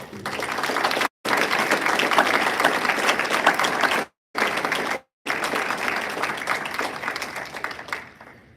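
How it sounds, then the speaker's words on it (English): Graduation ceremony applause for the class of 2020, a broad crowd of steady clapping broken by a few abrupt silent cuts, continuing at even loudness before fading at the end. "help me with a big round of applause for the class of 2020"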